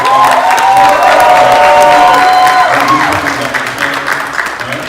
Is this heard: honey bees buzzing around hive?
no